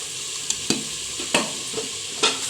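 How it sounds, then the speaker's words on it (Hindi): Masala with red chilli and ghee fries in a pan as a continuous sizzle, broken by several sharp scraping strokes of a spoon stirring. It is close and fairly loud, with no talk. "अब हम इसका मसाले को अच्छी तरह भून लेंगे और इसके अंदर सुर्ख मिर्च ऐड कर देंगे और घी डालेंगे और इसको अच्छी तरह भूनेंगे"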